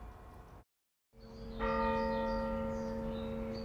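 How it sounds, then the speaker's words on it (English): Church bells ring at St. Ambrose Parish on a Tuesday morning, a sustained resonant peal that swells after a brief gap and hangs in the air, fairly distant and alone. "church bells ring at St. Ambrose Parish"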